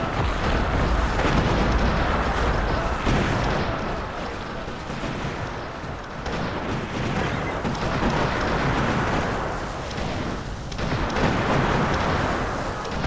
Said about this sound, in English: the smarter thing to do is use mortars from a distance